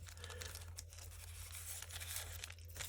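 A glassine bag holding small cards is handled close up, with soft crinkling and tearing rustles over a steady low hum, quiet and continuous.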